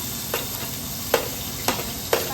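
Hot ghee sizzles steadily in a pan with a constant frying hiss, broken by four soft taps from a spoon stirring against the pan.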